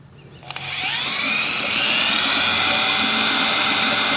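A drill spins the oil pump on a Ford 351 Windsor V8 to prime it, a steady high-pitched whine that starts after a brief pause and holds loud and constant to the end.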